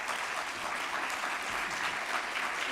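An audience at a cystic fibrosis congress presentation claps in steady, dense applause that fills the room evenly for a few seconds.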